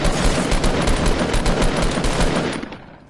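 Sustained rapid automatic gunfire from a shooter video game, loud and dense bursts rattling continuously for about two and a half seconds before tailing off.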